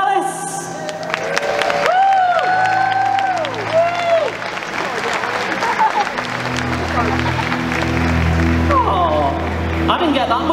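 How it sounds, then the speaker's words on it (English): An audience at an Assassin's Creed cosplay championship during the Insomnia 69 gaming event applauds and cheers with scattered whoops, the crowd noise sustained and loud over tonal music and background voices. "Can we have a big round of applause for Helen Alice?"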